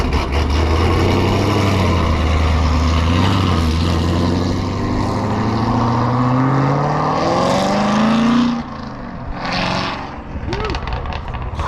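A 900-horsepower supercharged car engine at a car meet roars loudly up close, its pitch climbing steadily through a long rev before cutting off abruptly, then lighter engine noise continues with voices nearby.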